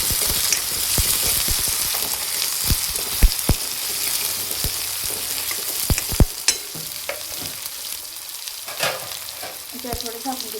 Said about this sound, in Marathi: आता यामध्ये मी कांदा टाकून घेते, कांद्याला छान कढून घेते लाल वाणाचं